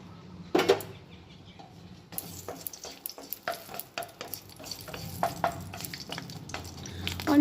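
Bay leaves and fenugreek seeds hit hot oil as a tempering for Bengali shukto, giving a sharp initial crackle followed by an uneven sizzle with clinks and scrapes of stirring close by.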